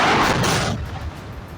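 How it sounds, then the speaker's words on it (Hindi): A gas tanker explodes in a loud, deep blast that booms and then rolls away into a fading rumble over about a second. "लेकिन लोगों के हाथ पांव तब फूल गए जब गैस टैंकर में जबरदस्त धमाके होने लगे।"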